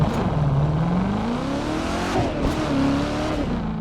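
A maxed-out Corvette in The Crew 2 accelerating hard, its engine note climbing steadily through the gears with a brief shift dip, loud and close throughout.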